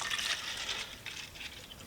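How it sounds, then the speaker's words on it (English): Deoxy rust-removal solution poured into a container, a steady close splashing and gurgling pour that fades a little toward the end, with no voices. "We are going to fill it up with a brand new solution of Deoxy."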